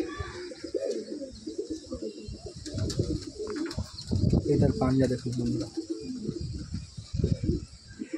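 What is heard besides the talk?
pigeons in loft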